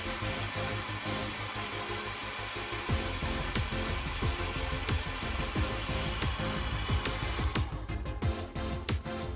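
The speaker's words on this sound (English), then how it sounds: "Finally, use hair dryer to see how you did." A hair dryer blows with a steady, loud whooshing roar over a model tank weathered with pigments, joined by scattered clicks and knocks, and sputters near the end.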